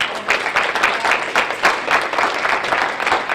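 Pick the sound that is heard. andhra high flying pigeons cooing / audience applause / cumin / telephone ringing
audience applause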